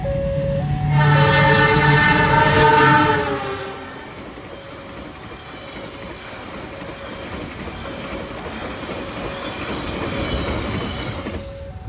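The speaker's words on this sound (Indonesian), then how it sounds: "Kereta api Turangga melintas dan langsung dilanjut oleh kereta api lokal Bandung Raya teman-teman." The Turangga passenger train passes close by on a line hit by landslide delays, sounding a loud, drawn-out horn for about three seconds, then a steady rolling rumble of wagons that swells slightly near the end.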